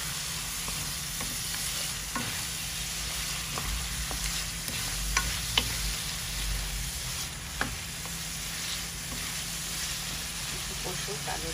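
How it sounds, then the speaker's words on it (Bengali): Potatoes fry and sizzle in a pan for a shrimp and spinach curry, with a steady hiss and occasional scraping stirs and clinks close by. "আলু দিয়ে আবার একটু কষাই দিই।"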